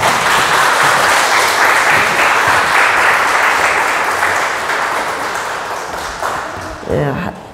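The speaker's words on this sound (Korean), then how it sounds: "나오실 때 뜨거운 박수 보내주시면 감사하겠습니다." Loud, sustained applause from a church revival congregation welcoming a gospel singer to the stage, dense clapping that fills the hall and slowly tapers off, with a few brief louder claps near the end.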